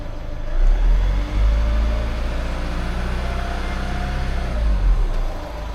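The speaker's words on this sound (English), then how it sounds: "You can accelerate around 2000 RPM, which will be much better to find much faster exhaust gas leak." Car engine held at a steady rev around 2000 RPM, warmed to about 90 °C while being checked for an exhaust gas leak into the cooling system; a continuous low hum with slight swells in loudness, no talking.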